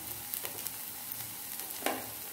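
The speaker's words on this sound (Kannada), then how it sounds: "ಅದನ್ನ ಫ್ರೈ ಮಾಡ್ಕೊಳ್ಳಬೇಕು ಸ್ವಲ್ಪ ಫ್ರೈ ಆಗಬೇಕಿದು ಈರುಳ್ಳಿ ಎಲ್ಲ ಮೆತ್ತಗಾಗಿದೆ" Softened onions fry in a pan for masala macaroni, making a quiet, continuous sizzle with occasional light scrapes and one firmer knock near the end.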